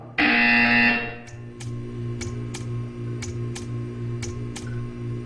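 In the Portal 2 game, a loud harsh buzzer blares for about a second, then a series of regular, evenly spaced ticks follows over a soft steady hum.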